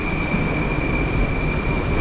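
A Moscow metro train rumbles along at speed, a dense, loud, continuous roar of wheels and carriage noise with a faint steady whine above it.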